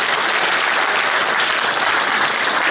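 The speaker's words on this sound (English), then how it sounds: "Clap there, absolutely." A community evening crowd claps loudly and continuously, a dense, even wash of applause from many hands sustained for a few seconds without a break.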